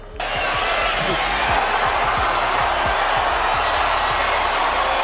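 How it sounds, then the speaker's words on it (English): Large boxing arena crowd before a Canelo Alvarez fight, a dense, steady roar of many voices with scattered claps and thumps, loud and continuous throughout, with a commentator talking over it. "Huge crowd in attendance. Many of them on their feet in anticipation for this much anticipated fight."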